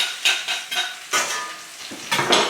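Pressed garlic sizzles in a hot stir-fry pan for a salmon and bacon dish, with close, rhythmic bursts of frying hiss as it is stirred roughly every half second, and no talking.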